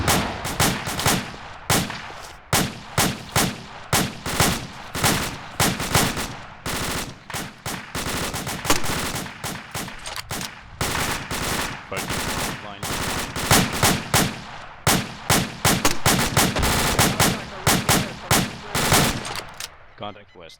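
Rapid bursts of rifle and machine-gun fire during an Arma 2 platoon training operation, loud and repeated with short gaps between volleys throughout, with faint voices now and then.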